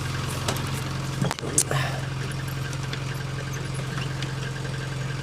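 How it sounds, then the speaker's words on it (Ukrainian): A tractor engine runs without its exhaust pipe, giving a steady, loud, rough rumbling drone throughout with a brief dip and clunk partway through. "Це зараз без вихлопної труби він буде так гуркотати"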